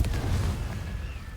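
A Confringo or Bombarda spell blast in the Hogwarts Legacy video game, a single heavy booming explosion with deep low rumble that decays over about a second.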